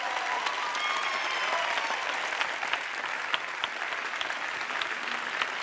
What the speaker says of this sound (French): On applaudit très fort Théo